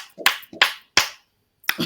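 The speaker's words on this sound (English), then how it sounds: "Let's clap for that." Hands clapping in a podcast setting, a few sharp, close claps spaced unevenly over a couple of seconds, with silence between them.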